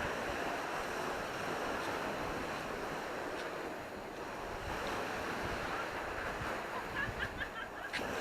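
Surf rolls steadily onto Konak Beach in Alanya, a broad continuous wash of breaking waves mixed with wind buffeting, with no one speaking.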